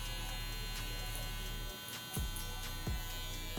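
An Evo hair trimmer fitted with a Saber blade buzzes steadily and close up while cutting hair. The drone dips briefly midway, and a few light clicks and snips break through it.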